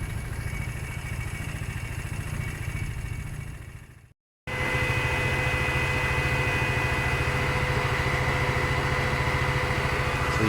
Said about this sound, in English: So you can hear now that the fan has come on.